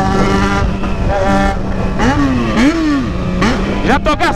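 Yamaha XJ6 motorcycle engine passing close by, its whining tone rising and falling through revs and gear changes, loud and near, with voices talking over it.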